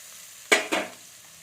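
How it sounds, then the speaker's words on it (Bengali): Tomato stirred and fried in a pan for a village-style borboti and kumro curry: two quick, loud sizzling bursts as the spoon moves it, each trailing off, over a low quiet background. "টমেটোটা একটু আমি নেড়ে নিচ্ছি।"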